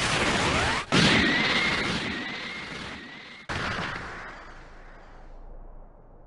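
A Special Beam Cannon attack in the Dragon Ball Sparking! Zero video game erupts as a loud, dense blast with a rising whine, cuts out briefly, then bursts again and fades into a long decaying rumble.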